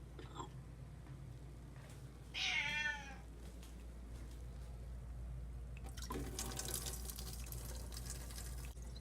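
A cat meows in a short rising-and-falling cry partway through, close and clear, over a low steady hum with a faint dripping sound from a faucet; a burst of rustling noise follows later.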